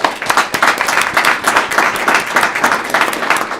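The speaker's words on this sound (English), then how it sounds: "Give one more round of applause." An audience claps steadily and loudly for a state champion cheerleading team at a school district board of education meeting, a dense, even patter of many hands with no pauses.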